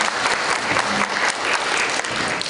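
Steady, dense audience applause fills the room after a university debate tournament final at Sookmyung Women's University, a continuous even wash of many hands clapping with no pauses.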